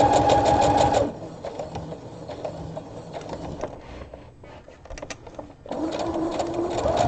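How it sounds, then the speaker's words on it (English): A sewing machine stitches a lay-flat drawstring cosmetic bag over pins, running in a loud, rapid, steady burst, pausing for a few seconds amid soft handling noises, then starting up again. "I'm just sewing gently over the pins. But I'm stitching very close to that side."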